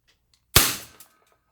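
A WG 708 CO2 revolver fires a single sharp, close shot, a sudden hiss-like crack that fades quickly, followed by a faint click.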